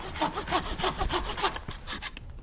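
A hand saw cuts through wood at an autumn campsite on the Gulf of Finland, quick rasping back-and-forth strokes in a steady rhythm, close and fairly loud, ending abruptly.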